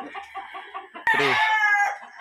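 A gray broad stag rooster lets out a loud, drawn-out crow after a few soft clucks from nearby large fowl.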